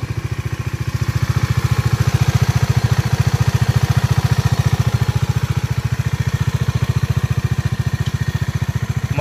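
A Bajaj Dominar 400 motorcycle engine idles steadily up close with a fast, even low thumping pulse, loud and unbroken throughout, with no voices.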